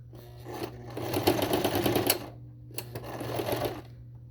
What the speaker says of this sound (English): So now we're gonna sew.